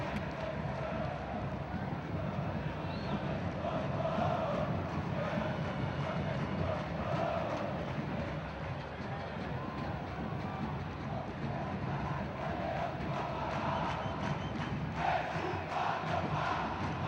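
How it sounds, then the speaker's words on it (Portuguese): A Brazilian football stadium crowd at a Vasco versus Ipatinga match chants a player's name, a steady, dense roar of massed voices held throughout without a break. "Torcida gritando o nome do Jean"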